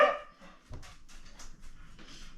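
A dog gives a sharp bark at the start, followed by softer whimpers and yips scattered through a quiet indoor room.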